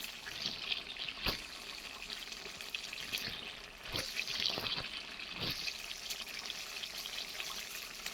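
Water poured into a pot of beef being cooked makes a continuous splashing rush, close by, with a few sharper knocks and a faint voice in the background.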